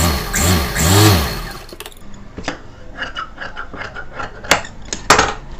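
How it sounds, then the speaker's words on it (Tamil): A sewing machine stitches the collar of a high-neck blouse. Its motor whirs loudly for about two seconds, then gives way to scattered clicks and fabric handling nearby. "கட் பண்ணி விட்டுட்டு இப்போ நம்ம இதுக்கு மேல் தையல் போட்டுக்கலாம்"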